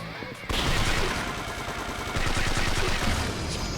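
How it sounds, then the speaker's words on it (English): Dense, rapid machine gun fire from the video game Yakuza 5 starts abruptly after a short pause and hammers on loudly and continuously as sustained automatic bursts. "Stop shooting me with your machine gun."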